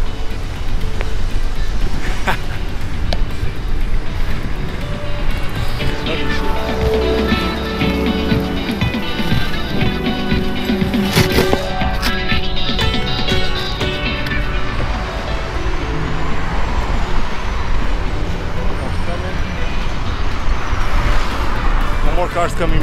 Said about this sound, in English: Cars coming my way.